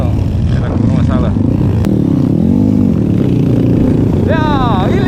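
A motorcycle rides a rough, extreme trail in Bangkala, Jeneponto, its engine loud and close, revving and clattering throughout while someone talks over it.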